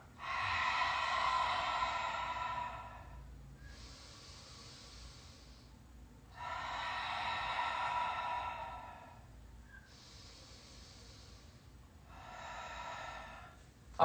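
Slow, controlled exhalations in a breathing exercise for diastasis recovery: three long airy breaths out, each followed by a softer inhale, close and steady with no talk.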